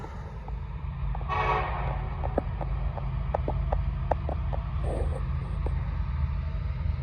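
Norfolk Southern southbound train 241 rumbles past close by, a steady low roar of rail cars with rhythmic clicks from the wheels crossing rail joints and a brief higher burst partway through.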